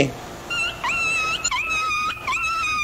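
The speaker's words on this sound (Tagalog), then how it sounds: "Tingnan mo yung aso naipit lang yun, kaya umingay" A dog whimpers and whines after being pinched, high, wavering cries and several drawn-out yelps rising and falling close by, with some background noise underneath.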